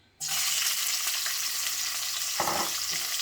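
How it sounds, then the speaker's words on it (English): Peppers and tomato hit a hot pan for a Jamaican brown stew, setting off a sudden loud, steady sizzle that carries on close up, with a brief stirring scrape near the end and no talking. "So I'm going to go straight in with my vegetable peppers, my tomato."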